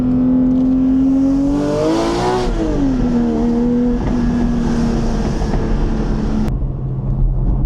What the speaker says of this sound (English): as far as the engine noise, the engine, as you guys know, the V6 motor, supercharged motor in the Emira